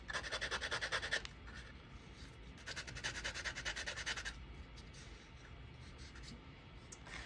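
Sandpaper rubs burrs off small amphitheatre model kit pieces in quick rhythmic bursts, close and fairly quiet, pausing between strokes with a faint steady scrape continuing underneath.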